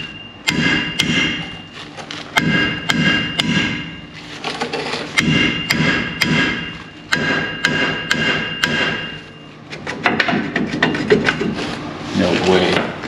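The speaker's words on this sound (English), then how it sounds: "with the old 4-pound steel sledgehammer." Repeated heavy blows from a 4-pound steel sledgehammer striking a seized brake rotor on a Chevy Silverado 2500 HD truck, sharp metallic hits in uneven bursts with short pauses, close and loud.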